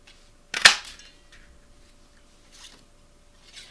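A craft paper punch snaps once through cardstock, cutting out small body shapes for a ladybug birthday card, with a few softer handling rustles afterward in a quiet room.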